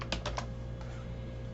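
A few quick keystrokes on a computer keyboard while entering data into an Excel worksheet, three crisp clicks then a softer one over a quiet room hum.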